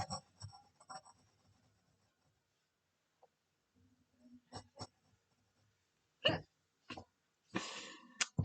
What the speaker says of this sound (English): Oh dear, the hiccups are back.